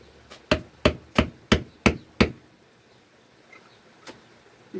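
Hammering at a house fireplace under construction: six sharp, loud, evenly spaced strikes in quick succession, then quiet with one fainter knock later.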